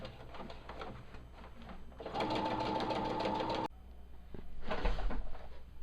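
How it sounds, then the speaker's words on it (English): A sewing machine stitching the side seams of a fabric dust cover, running in short bursts with a steady rapid needle chatter that grows louder midway, then pauses and starts again, close up and fairly quiet. "I'm all done sewing up my sides."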